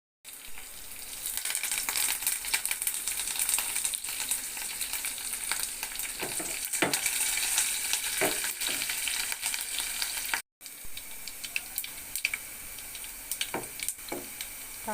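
Mustard seeds, cumin, garlic, dried red chillies and curry leaves with a pinch of turmeric crackle and sizzle in hot oil for a tempering, a steady close frying hiss with occasional pops and one brief break.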